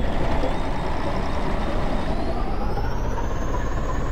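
A bus rumbling along in the video game DayZ, with a continuous loud, dense engine and road roar holding steady throughout, and no voices.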